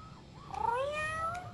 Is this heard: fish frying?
no